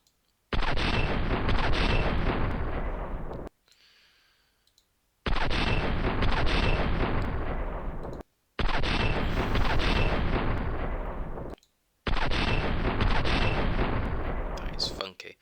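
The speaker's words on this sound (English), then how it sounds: "So it pushes the cartridge in, ignites it with the needle, pulls it out, loads another round in, fires it out, and ejects it." Slowed-down firing of a DShK heavy machine gun: four long, stretched roaring blasts, each about three seconds, separated by short silent gaps.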